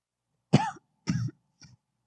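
Three short, close coughs from a person at a microphone, separated by brief pauses, the last one softer and quicker.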